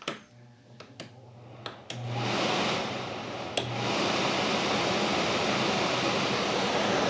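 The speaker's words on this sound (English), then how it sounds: "And then I got my air conditioner." After a few sharp clicks and thumps, an air conditioner in a camper trailer built from an old trailer starts up and settles into a steady, loud broadband whoosh of blowing air.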